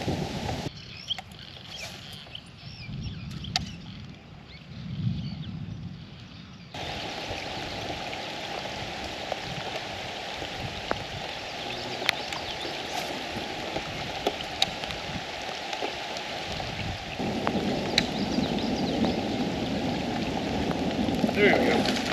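Steady rain falls on a fishing boat during a thunderstorm at a bass tournament, a dense continuous hiss of drops on the surface that stays loud and unbroken throughout, swelling a bit near the end.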